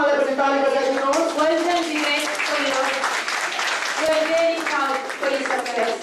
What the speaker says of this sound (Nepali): उहाँलाई पनि ताली बजाइदिनुहोस्।